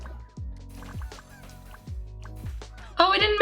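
Birds in the game Genshin Impact: a run of low, gobbling fowl calls repeating roughly every half second, ending in a brighter squawking burst.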